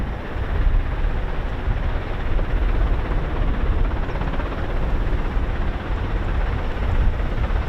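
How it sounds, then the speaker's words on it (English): A USAF CV-22 Osprey tiltrotor of a special operations wing roars steadily on a rainy day at an air base, a dense, loud, unbroken rotor and engine rumble with no gaps. "Beautiful CV-22 Osprey."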